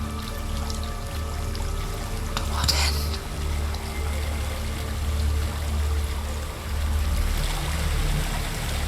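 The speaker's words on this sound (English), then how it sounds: "There's a waterfall." Waterfall in Hellblade: Senua's Sacrifice, a steady broadband rush of falling water with a deep low roar, constant and fairly near, with a brief brighter splash partway through.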